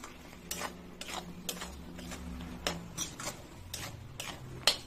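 Sweet jujube (boroi) pickle stirred in a pot, a regular series of soft scraping strokes and light metallic clinks against a low cooking hiss, close and alone.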